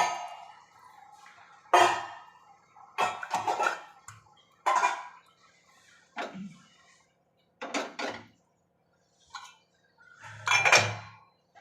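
Dishes, steel pots and cutlery being gathered in a home kitchen, irregular close clatters, clinks and thuds of utensils set down and stacked, separated by short quiet gaps.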